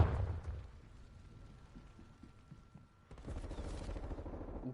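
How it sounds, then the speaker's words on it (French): A grenade blast in the video game Call of Duty Cold War: a heavy low rumble at the start fades to quieter game ambience, then a second loud, sustained burst of booming noise erupts and continues. "Je lance une grenade."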